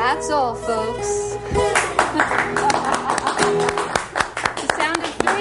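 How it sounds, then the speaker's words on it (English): Sparse clapping from a small audience follows a live song in Woodstock, a handful of separate close claps amid lingering music and some voices. "The sound of 3 hands clapping."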